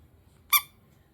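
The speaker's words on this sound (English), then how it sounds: "It's a dog toy. He's really cute and he squeaks." A Gumby squeaky dog toy gives one short, bright, high-pitched squeak midway through an otherwise quiet moment.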